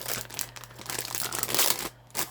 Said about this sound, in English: So let's grab some tear tape here.